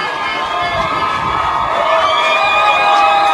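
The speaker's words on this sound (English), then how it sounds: "Crowd letting the players hear it." Home crowd at a high school football game between Palisade and Fort Morgan cheers and whoops continuously in the final seconds, a dense, loud wash of shouting voices that swells slightly toward the end.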